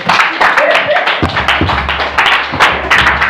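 A church congregation claps and cheers to acclaim Jesus, with rapid, loud, near applause and hand claps continuing throughout, and voices shouting over it.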